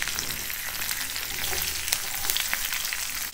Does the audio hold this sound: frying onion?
yes